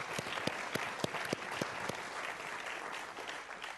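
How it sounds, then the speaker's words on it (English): An audience at an artist's lecture on war photography breaks into applause. A few sharp, distinct claps come first, then they blend into a softer, sustained wash of clapping. "I think we should do a round of applause for a lot of people who put this together"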